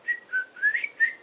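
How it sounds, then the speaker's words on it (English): A person whistles a short tune of four clear notes, close and alone. "can you whistle?"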